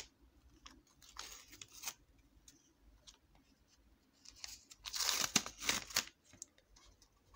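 Paper surprise packet being opened, soft crinkling and rustling paper handling with scattered light crackles, building to a louder burst of tearing and crumpling near the end.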